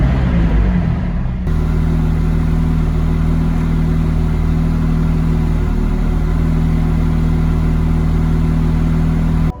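A 2020 McLaren 620R engine starts up inside an enclosed space with a sharp burst, then settles into a loud, steady, close idle drone that holds to the end.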